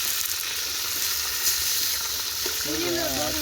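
Fish sizzles steadily in hot oil, a continuous close frying hiss with small crackles, and a voice speaks briefly near the end.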